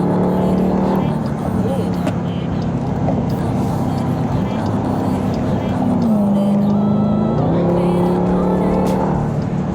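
A 2021 Dodge Durango SRT Hellcat accelerates hard, its engine note climbing and shifting through gears, loud and close from inside the cabin with a person talking over it.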